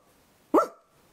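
A reader's voice imitates a dog's bark, one short, loud, close woof standing alone against near silence.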